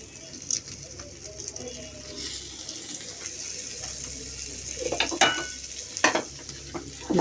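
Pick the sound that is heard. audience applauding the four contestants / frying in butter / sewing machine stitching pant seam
frying in butter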